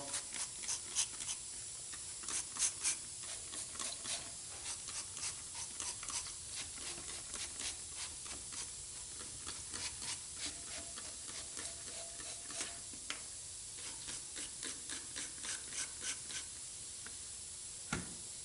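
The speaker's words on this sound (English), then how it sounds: "So I'll just spray all these down." Repeated short hissing bursts from a spray can on Packard engine parts, sharp and fairly close, recurring irregularly in quick succession with brief pauses between them.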